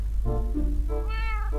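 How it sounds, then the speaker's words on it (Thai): A Minecraft cat meows twice in quick succession, loud and clear, over a steady low background hum. "แมว"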